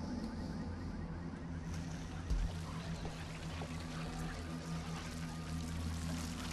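The diesel engine of a wood chipper in the video game BloodRayne 2 runs with a low, steady droning rumble and a faint rattly texture on top, continuous throughout and alone.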